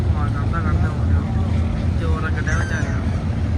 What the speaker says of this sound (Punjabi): ਇੱਕ ਕਿੱਡਾ ਤਕੜਾ ਜਹਾਜ਼ ਆਉਣ ਡਿਆ ਇਹ ਇੰਜਣ ਵਾਲਾ